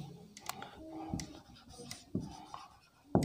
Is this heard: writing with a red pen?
yes